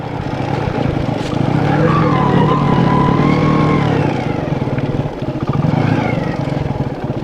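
A car driving up the road to Lakhpat fort, its engine droning loud and close with shifting revs as it climbs, rising and falling in pitch, with rumbling tyre and road noise underneath.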